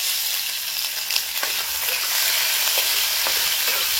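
Prawns frying in hot mustard oil give a steady, loud sizzle with crackling spatters throughout, and no one speaks.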